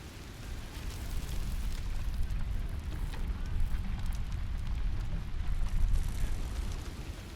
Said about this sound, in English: the rain sound faded out, and it was just like click click click click click on the roof of the building